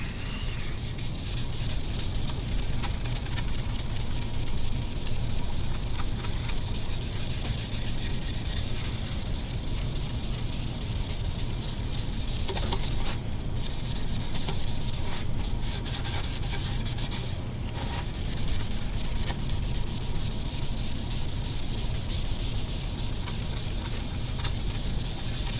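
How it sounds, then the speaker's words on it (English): Cloth rubbing Angelus dye into a quilted wood guitar top, a steady close scrubbing and wiping texture that runs continuously and evenly throughout, with no talk over it. "See if I can just rub this in."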